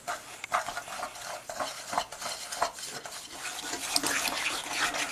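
A hand whisk beats cheesecake-stuffed chocolate chip cookie batter in a bowl, making quick, rhythmic scraping and stirring strokes close up, with no talking.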